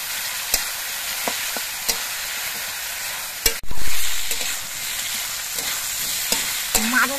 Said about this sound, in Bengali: মাঝারিভাবে জাল দিয়ে আলুর খোসাগুলোকে ভেজে নিতে হবে।